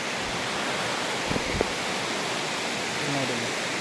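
Hosadewata waterfall running with reduced water, heard as a steady, even rush of falling water filling the whole clip, with faint voices briefly surfacing beneath it.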